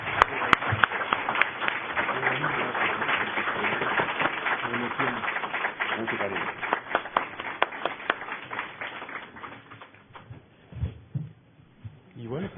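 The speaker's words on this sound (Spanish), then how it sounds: "todos debemos darle un enorme aplauso a José María Serna por su éxito." A crowd claps steadily in sustained applause that gradually thins out into a few scattered claps near the end, with a voice briefly heard over it.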